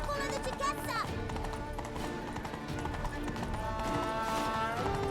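Horse hooves clatter in a rapid, continuous gallop in the video game Witcher 3, with game music and voices talking over the rhythmic beats.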